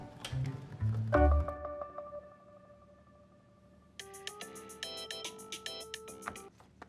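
A phone ringtone plays a short electronic melody after a few dull thumps, then continues with brighter repeating tones.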